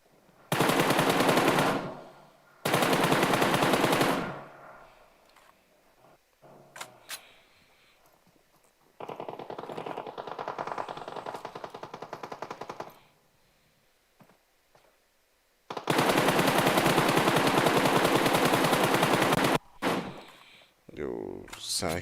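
Automatic weapon fire aimed at a vehicle in a video game, coming in several long, loud sustained bursts separated by quieter gaps with softer thuds and movement.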